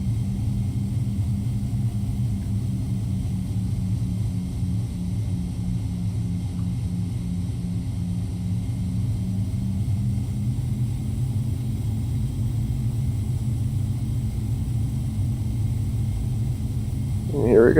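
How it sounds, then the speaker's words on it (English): Twin engines of an ERJ145 airliner in X-Plane 11 spool up to takeoff thrust on the runway, producing a loud, steady low rumble with a droning tone that holds and builds slightly throughout. "And here we go, takeoff thrust."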